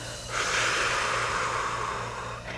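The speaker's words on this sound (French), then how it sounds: "On garde la respiration et on expire." A single long, breathy exhale pushes out through the mouth, close and steady, lasting about two seconds before fading.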